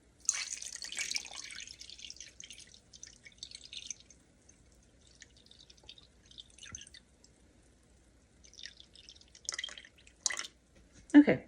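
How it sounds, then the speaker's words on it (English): Warm tap water runs from a kitchen faucet into a measuring container on a scale for bread dough, a soft hissing stream at first, then scattered drips and splashes, fairly close, with no talking. "I am just using warm water from my tap"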